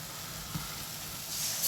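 Spices sizzling in oil in a wok while cooking paneer in milk, a steady close frying hiss with a faint soft stir partway through, rising slightly toward the end, with no talking.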